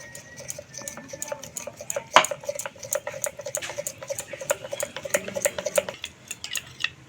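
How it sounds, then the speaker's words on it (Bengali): Cornflour and white oil being stirred into a paste, with quick, repeated metallic clinks of a spoon against a bowl in a steady rhythm and one sharper knock partway through, close and fairly loud. "এই কর্নফ্লাওয়ার আর সাদা তেলের একটা খুব সুন্দর পেস্ট বানিয়ে নেব"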